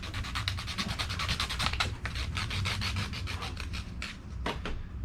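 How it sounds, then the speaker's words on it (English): Fast, steady back-and-forth rasping of sandpaper by hand during a 1980s-style speed shop build, close and continuous with a rhythmic scrubbing pulse, ending in a few slower strokes. "A little sandpaper here."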